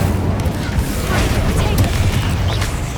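A fire spell cast in Hogwarts Legacy, a dense rumbling whoosh with low booming bursts that carries steadily for the whole stretch at close range, while a voice speaks over it.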